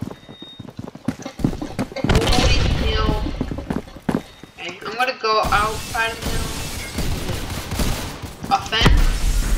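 Rapid gunfire in the Phantom Forces shooter game, loud bursts of close shots and booms in dense clusters, with players talking throughout.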